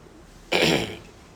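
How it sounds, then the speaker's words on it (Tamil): A single short, harsh cough from an irritated throat bursts out close by against a quiet background. "தொண்டை பொசு பொசுப்பு இருப்பதனால் இருமல் வருகிறது"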